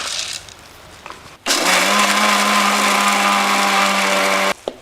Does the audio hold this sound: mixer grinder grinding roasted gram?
yes